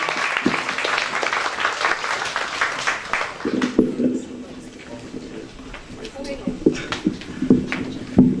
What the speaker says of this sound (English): So a round of applause, please, for Mana'o, Kaumali'i, and Kalama.